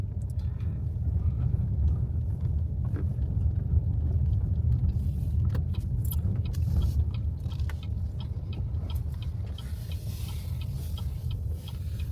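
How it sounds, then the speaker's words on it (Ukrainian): A car driving slowly through a village, a steady close engine rumble with road noise and occasional rattles inside the cabin, no talking. "І зараз ми проїдемося трішечки по селу"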